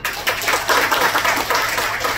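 An audience bursts into applause at a talk about jobs and earnings, a loud, dense round of clapping that starts abruptly and holds steady for about two seconds.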